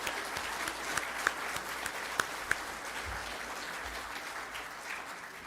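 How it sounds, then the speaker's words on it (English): An audience at a Saskatoon prosperity summit applauds: a steady, dense wash of clapping from a room full of people, holding an even level throughout with a few sharper claps standing out near the front. "Let's just give a round of applause out to Mark in postpartum."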